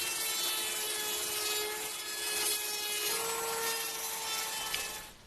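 A router fitted with a quarter-inch round-over bit cuts along the corners of half-inch square wood stock, giving a steady high whine and rasping bite throughout, close and uninterrupted, with no talk.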